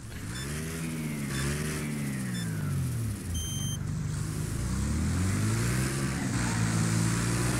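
Engines rev and rise in pitch over and over in the racing game Wreckfest, with many small motorbikes racing together. The revving is loud and continuous, with repeated upshifts and no talking.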